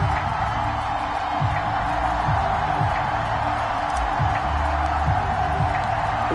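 Home crowd at Hard Rock Stadium in an EA Sports football game, Dolphins facing the Browns, gives a steady, dense roar of cheering that holds at an even level throughout with no pauses.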